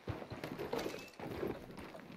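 Horse hooves clip-clopping in the Red Dead Redemption 2 video game, a steady run of rhythmic thuds at moderate loudness over game ambience.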